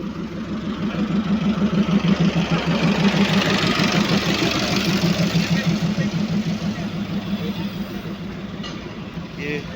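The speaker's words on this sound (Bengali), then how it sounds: "এটা হচ্ছে দার্জিলিংয়ের ঐতিহ্যবাহী টয় ট্রেন।" The engine of the Darjeeling heritage toy train idles nearby with a steady, rhythmic low chugging throb that stays constant throughout, with faint background bustle above it.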